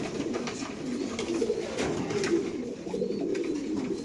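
BRPFC racer pigeons at a loft coo in a soft, continuous low murmur, steady and close throughout without any talk.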